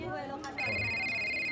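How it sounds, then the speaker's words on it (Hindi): A mobile phone in a pocket starts ringing with a steady, high electronic tone that cuts in sharply after a moment of speech and holds to the end. "तभी जेब में पड़ा उनका फोन घनघना उठा"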